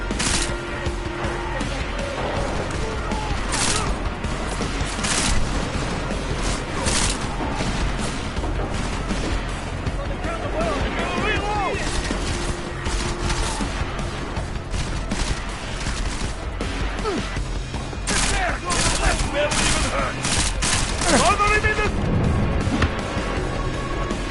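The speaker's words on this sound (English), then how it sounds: "Keep shooting him, just in case." Gunfire in the Deus Ex video game, rapid repeated loud shots and bursts with crashes and booms over a dense, steady game soundscape.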